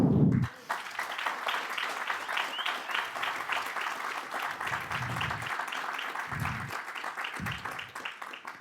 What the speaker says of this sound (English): let us all thank him by a huge round of applause